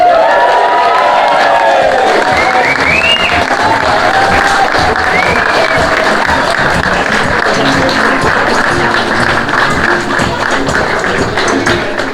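Wedding guests at Burton Court applauding and cheering for the newly married couple, a loud, dense burst of clapping with whoops and shouts that carries on steadily throughout.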